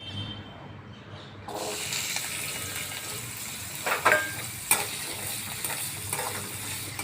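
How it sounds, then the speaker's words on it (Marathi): Potatoes sizzling in hot oil with a steady frying hiss, broken by a few sharp scrapes as a spoon stirs the pan. "हा असा आपण छान बटाटा थोडा परतून घ्यायचा"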